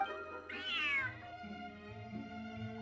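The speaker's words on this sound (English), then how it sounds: "Big ferocious cat." A cat meows once in a video game, a clear rising-then-falling cry set over steady background game music, with no talking.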